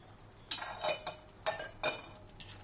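Masoor dal stirred in a metal pot, with a spoon clattering and scraping in several bursts before the lid goes on; no voices.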